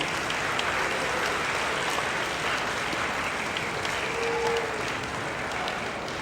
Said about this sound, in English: I'd ask the 8th grade tonight to give a round of applause to your parents and your family and your friends.